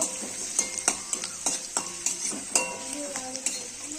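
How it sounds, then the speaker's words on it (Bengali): Onion and garlic frying in a pan, a close, steady sizzle broken by repeated sharp scrapes and clinks of a spatula stirring at an irregular rhythm, with no talk. "পেঁয়াজ রসুনটা লাল করে ভাজা হয়ে গেছে,"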